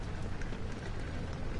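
Steady rain pours through the Rainy Hall level of the Amnesia: The Dark Descent video game: a dense, even hiss of falling drops that never lets up and sounds alone, without voices.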